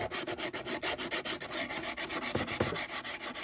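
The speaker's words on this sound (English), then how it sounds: "we're going to sand away that edge" Hand sanding along the wooden edge of a seven-string lyre with 120 to 150 grit sandpaper, a steady close scratchy rasp in quick repeated back-and-forth strokes, alone without talk.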